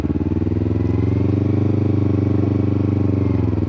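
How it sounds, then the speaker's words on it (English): A motorcycle engine on a Sonic Moto training bike revs steadily and loud as the clutch is let out, a continuous close, throbbing drone that holds at high revs without pause. "So release the clutch and give it throttle."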